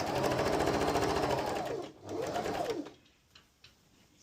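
A sewing machine stitches down the binding along the edge of a quilt, its motor whirring in a long run, pausing briefly, running again, then stopping, with faint clicks after.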